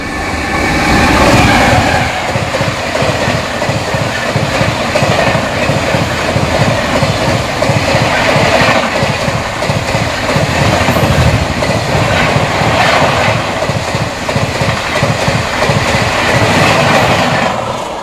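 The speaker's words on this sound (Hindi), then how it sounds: "शायद कोई ट्रेन क्रॉस कर रही है।" The Rajdhani Express rushes past a stopped Dhanbad–Howrah Coalfield Express at Khana Junction in India, a loud, close, continuous rumble with rhythmic clickety-clack of wheels over rail joints throughout.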